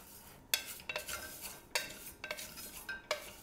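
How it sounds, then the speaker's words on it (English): Steel cut oats toasting in a dry pan, heard as intermittent scraping and clinking stirs against the metal in repeated bursts, close and moderately quiet with no talking. "I'm going to toast these until they're lightly browned."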